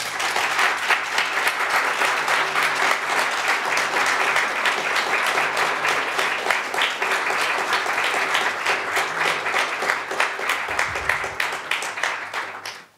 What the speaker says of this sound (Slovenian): Mislim, da si zaslužijo aplavz.